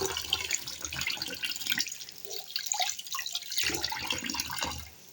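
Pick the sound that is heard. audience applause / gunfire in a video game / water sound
water sound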